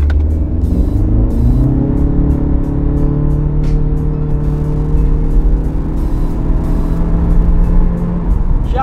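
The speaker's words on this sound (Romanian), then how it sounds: "Și accelerează. Motorul este mai zgomotos decât la Mazda" A Honda Civic VTEC Turbo engine revs up steadily from a standstill at idle, its pitch climbing through the gears as it accelerates, loud and close throughout.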